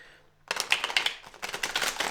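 Rapid crisp riffling of tarot cards being shuffled, several quick bursts of papery flutter and snapping in close succession, near and fairly loud after a brief quiet start.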